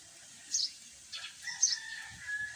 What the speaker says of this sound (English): there is a bird chirping in my background